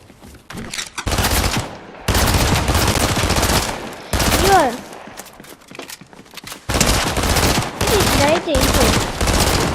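Bursts of rapid automatic gunfire in a Fortnite ranked match come in long, loud volleys with short pauses between them, with a few single shots and a faint whooshing sweep.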